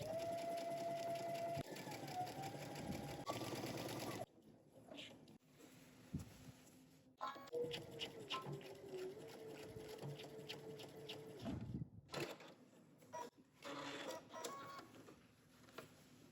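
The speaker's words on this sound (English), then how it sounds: "now we can go ahead and stitch our facing in place" A sewing machine stitches the facing in place on a McCall 8514 jumpsuit in several close, steady runs of rapid mechanical whirring, separated by short pauses and small clicks.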